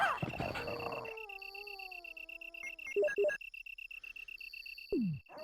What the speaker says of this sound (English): That's a dog for sure.